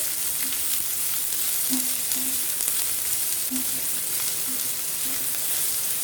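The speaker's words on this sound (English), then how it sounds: "Saute the onions until it is translucent or transparent." Onions and green chilies sauté in a pan for a cabbage and carrot sabzi, giving a continuous, even sizzle throughout with faint intermittent tones underneath and no voices.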